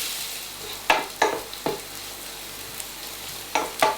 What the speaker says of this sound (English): our onions are now going nicely golden, not coloured, just a little bit golden